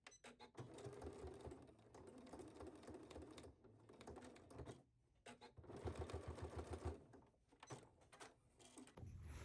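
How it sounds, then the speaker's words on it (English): A sewing machine edge stitches fabric, running in close, steady mechanical bursts with brief pauses between runs, loud and alone with no talking. "And then we are going to edge stitch this at our machine."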